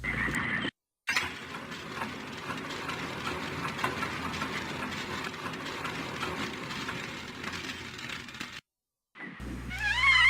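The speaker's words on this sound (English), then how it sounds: "you can hear that the machine is actually functioning" Steady mechanical rumbling and clanking from a running elevator machine in the video game Myst, continuous and fairly loud, with two brief gaps of silence.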